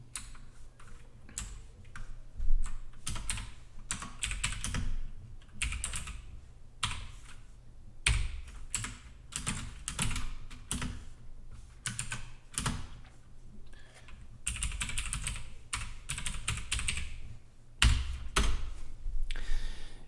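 Code being typed on a computer keyboard, with rapid bursts of close key clacks broken by short pauses and occasional heavier thumps of the space or enter key, no voice.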